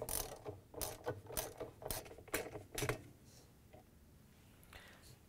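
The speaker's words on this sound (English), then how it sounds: "We're going to use a wrench, a long extension, and a 7/16 inch socket to take it off." A ratchet wrench with a long extension and 7/16 inch socket turns the agitator coupler bolt on a GE washer, a burst of rapid clicking ratchet strokes in the first three seconds, then quiet.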